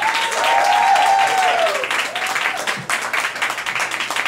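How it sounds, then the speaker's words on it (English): Audience applause as a state senator is introduced at a community leadership award event, loud crowd clapping with a faint tonal whine early on, continuing steadily throughout. "put your hands together for Senator Kevin Parker"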